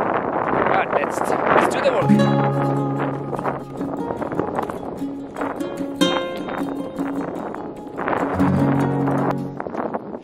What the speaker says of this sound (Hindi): बहुत ही ज्यादा हवा चल रहा है.